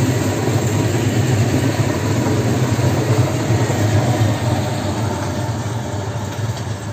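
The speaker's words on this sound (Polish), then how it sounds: "I za już odjeżdża tam pociąg WKD." A WKD commuter train pulls away from Warszawa Reduta Ordona station, a steady loud rumble of wheels and motors that holds throughout, close by, with no voices.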